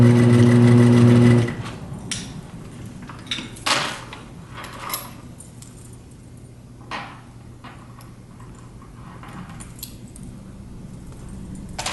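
A sewing machine stitching a seam on a knit watchman beanie, a loud steady whir that stops after about a second and a half, followed by soft handling clicks and rustles.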